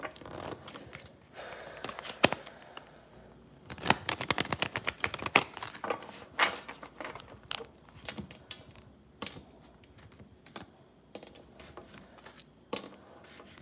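Tarot cards being shuffled for a full-moon reading: a run of crisp papery riffles and flicks arriving in uneven bursts, close up and fairly loud, with brief pauses between bursts and no talking.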